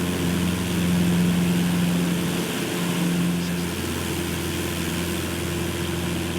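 Steady drone of a Cessna 172 single-engine propeller in a flight simulator, a loud low hum with a constant tonal whine, holding level throughout with no talking.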